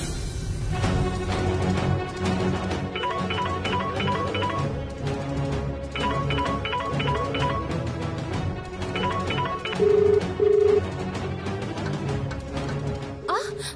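A phone rings with a repeating electronic tone in short bursts, a few seconds apart, over a steady background hum.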